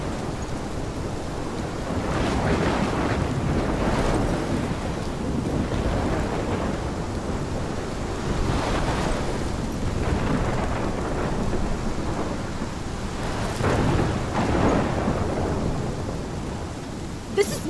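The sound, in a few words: thunderstorm with rain and thunder in video game Life Is Strange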